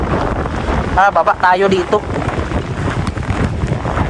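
Wind blowing around icebergs in cold Greenland evening air, a steady rushing roar buffeting the microphone throughout, with a person talking over it.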